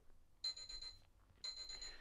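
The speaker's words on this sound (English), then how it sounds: "When the timer beeps," Workout interval timer on a seated upper-body beginner session gives two bright electronic beep bursts, each about half a second long and a second apart, over a faint, quiet background.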